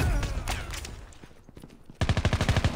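Gunfire in the mobile game Call of Duty Mobile, with bursts of rapid shots. An irregular volley is followed by a fast, loud, rhythmic string of about eight shots at the end, close and with no talking.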